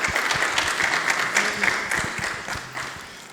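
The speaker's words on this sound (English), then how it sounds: "Yes, please give him a round of applause." Audience applause at a governor's symposium for Mr. Richardson, a steady moderate wash of clapping from a seated crowd that holds for a few seconds and slowly tapers, with faint voices mixed in.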